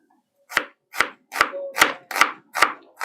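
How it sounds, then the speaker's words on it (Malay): A knife chops spring roll filling ingredients on a board in a small home kitchen: six sharp, evenly spaced cuts close by, each a crisp thud with a short ring. "Ni yang kita nak tumis. Kita potong."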